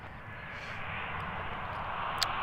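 A SkyWest Delta Connection Embraer jet landing on runway 17 left gives off a faint, steady engine rush with a distant broadband whine, with no talking.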